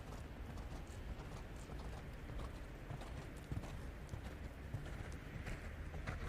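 Horse hooves cantering in a dressage arena at a junior eventing European championship, a steady dense clip-clop rhythm heard at a distance beneath broad, constant arena ambience.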